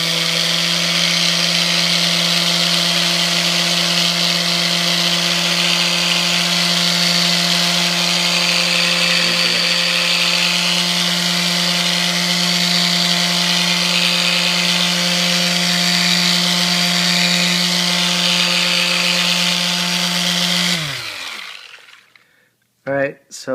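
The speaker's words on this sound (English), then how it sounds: "Supposed to just let the sander do the work." Electric sander scuffing the gloss finish of an Epiphone guitar body with a Scotch-Brite pad: a steady, loud buzzing hum with a constant motor tone, running evenly for about twenty seconds before cutting off abruptly.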